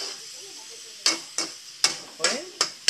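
Sautéed eggplant with egg being stirred in a pan, with six sharp scraping strokes in a steady rhythm over a low sizzle, close and moderately loud with no talking.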